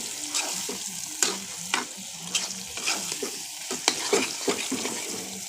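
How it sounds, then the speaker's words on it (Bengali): Onions and eggplant fry in a pan with a steady sizzle, broken up by regular close scrapes and stirs of a spatula, and no talking. "পেঁয়াজগুলো লাল করে ভেজে নিব"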